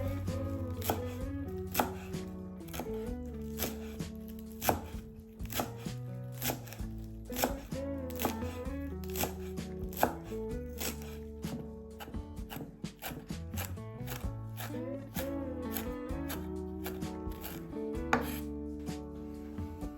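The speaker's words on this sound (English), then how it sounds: "Chop 1 bunch of parsley." A bunch of parsley chopped with a knife on a board, rapid steady chopping taps through the whole stretch, set under a continuous musical backing with no talking.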